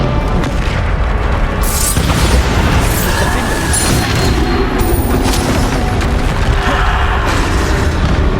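Bombarda-style spell blasts from a Hogwarts Legacy duel boom repeatedly amid dense combat noise, with sharp bursts and crackling magical impacts layered over a loud, continuous battle din.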